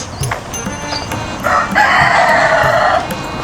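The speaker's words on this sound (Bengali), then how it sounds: "ওদিকে মুরগির আওয়াজ শোনা যাচ্ছে" Chickens cluck around a village home and family business in rural Malaysia, with a rooster crowing in a drawn-out call through the second half, set against steady outdoor background noise.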